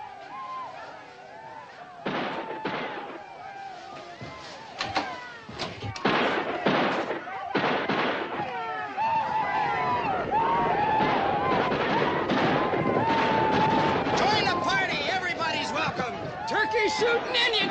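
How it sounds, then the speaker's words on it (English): Gunshots ring out in a western town, a burst of sharp reports clustered early, then layered under loud shouting and crowd commotion that continues to the end. "Shooting Indian Town!"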